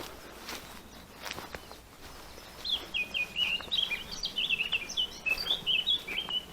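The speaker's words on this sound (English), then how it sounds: "We're getting closer to the blackcap and we're getting further away from the song thrush" Blackcap and song thrush song rises after a couple of seconds at Wicken Fen, a quick run of high chirping phrases over faint rustling and a few soft steps.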